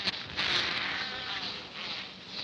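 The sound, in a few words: bees buzzing around honeycomb with eggs and larvae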